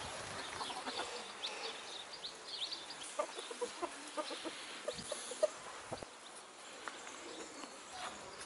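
Rooster and hens clucking in a backyard coop in spring, a steady scatter of short clucks and calls at moderate distance over soft outdoor ambience.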